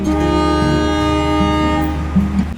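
KA 332 Walahar local train pulling out of Cikarang station, a loud sustained horn blast over a deep rumbling locomotive engine with some rail clatter, close by.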